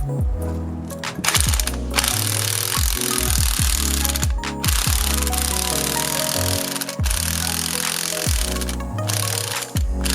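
An impact gun hammers a bolt loose from the front suspension of a 1991 Honda Civic, firing in several loud rattling bursts separated by short pauses, close up.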